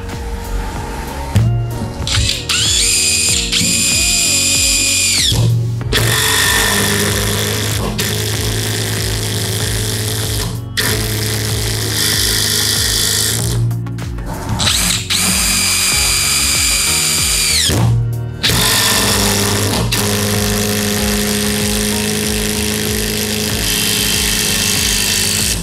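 A Dewalt DCF850 Atomic impact driver drives a 7 cm white screw in loud, rattling bursts with short pauses between runs, and the tool's harsh hammering chatter dominates throughout.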